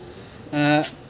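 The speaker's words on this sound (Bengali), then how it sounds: "এই যে প্রথমে একটা কালশিরা পায়রা দেখাচ্ছি আপনাদেরকে" A Kalsira pigeon at a loft gives a single short, throaty coo in the middle of a quiet stretch, close and moderately loud.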